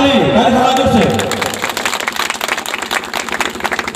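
Audience applause breaks out at a tribal day gathering, a dense wash of many hands clapping that starts loud and continues steadily, with some voices mixed in at the start.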